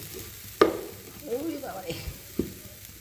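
Grated coconut fries in a pan with date palm jaggery under a quiet sizzle, broken by a sharp utensil knock, scraping stirs and a second clink later on.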